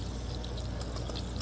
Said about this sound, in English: Now we're going to pour in our potatoes.